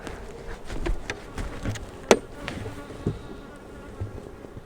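Honeybees buzz and drone continuously nearby during a spring hive inspection, with individual insects flying past the microphone now and then.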